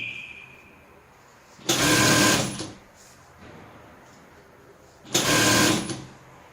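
A sewing machine stitching a vest seam along the seam allowance, two loud whirring bursts of about a second each separated by a quiet pause, close to the microphone.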